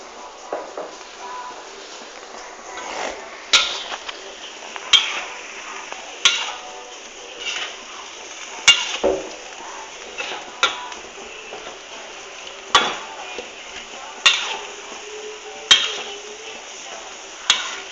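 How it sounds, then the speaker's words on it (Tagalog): Ground pork giniling with added potatoes is stirred in a frying pan, a spoon scraping and clanking against the pan in steady strokes roughly every second over a soft sizzle. "haluin natin mabuti"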